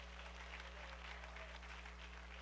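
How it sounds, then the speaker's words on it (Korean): A room full of people at a church prayer gathering applauding, dense steady clapping that holds at an even level throughout, with a low hum underneath. "박수 한번 쳐주세요"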